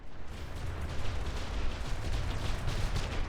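Cannons on a battleship in the naval combat game From the Depths fire steadily at incoming missiles, a dense continuous rumble of overlapping booms with no pauses, heard alone at moderate loudness.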